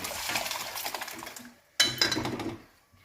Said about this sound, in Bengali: এবার আমি এর মধ্যে এই সেদ্ধ করা ডালটা ঢেলে দেব